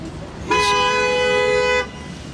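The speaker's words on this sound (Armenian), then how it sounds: "Ես ինչ է, սիգնալ տալի։" A car horn sounds in one sustained honk of a little over a second, loud against faint street background noise.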